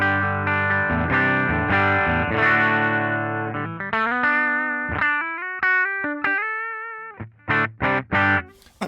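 Electric guitar played through a ToneX ONE pedal modelling a 1976 Fender Deluxe amp, strummed chords giving way to sustained single notes and short choppy stabs, loud and close with no voice.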